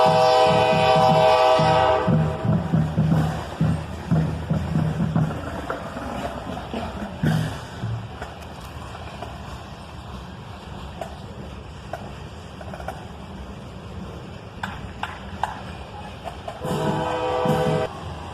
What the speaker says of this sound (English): A loaded iron ore train, led by a single